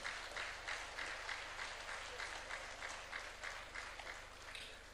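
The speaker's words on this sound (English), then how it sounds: "Another round of applause for her" Sustained applause from a workshop audience at a development conference, steady rapid clapping filling the room for several seconds with no voices on top.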